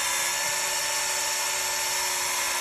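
A belt sharpener grinds the edge of an Estwing Black Eagle tomahawk, a loud, steady high-pitched whine of abrasive belt on steel, continuous and close with no talking.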